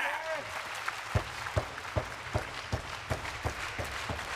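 A wrestling crowd at a live match claps in a steady, rhythmic beat, with a commentator talking over the sharp, evenly spaced claps.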